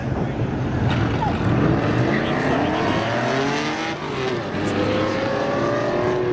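Spectator drag race cars launch side by side at Seekonk Speedway, their engines revving and climbing in pitch as they pull away down the track under a steady crowd-and-track din.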